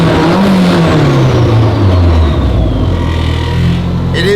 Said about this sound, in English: You can see when I rev it.